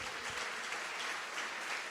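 A church congregation applauds during a Portuguese-language communion service, with steady, dense clapping heard at a moderate distance and fairly soft level, no voices over it.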